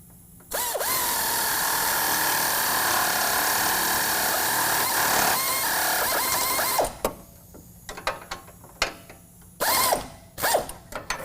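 Wrench work on the bolts and nuts of a Go Rhino BR5.5 front winch bumper on a 2019 Chevy Silverado 1500, a long continuous mechanical whir and ratcheting followed by several short bursts of clicking and metal tool noise, close up and without speech.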